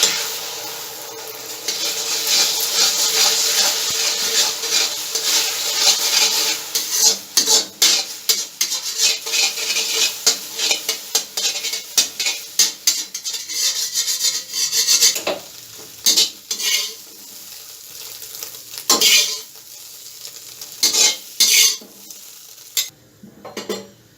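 An egg fries in hot oil that sizzles and crackles steadily, then breaks into bursts of scraping and stirring against a pan as the frying continues.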